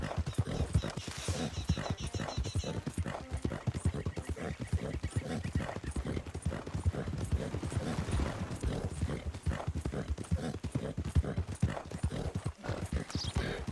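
Horse hooves clip-clopping steadily in Red Dead Redemption 2, a continuous rhythmic trot of the rider's mount at close range, with faint game ambience and no talk.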